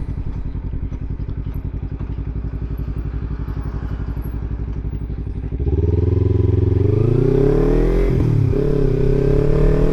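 A motorcycle engine idles with a steady chugging putter, then revs up and pulls away, the pitch rising and falling as it accelerates close by.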